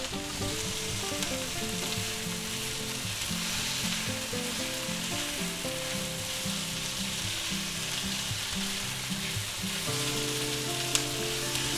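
Peppers and onions sizzle steadily in a hot pan with minced garlic, a constant close crackle with no talk.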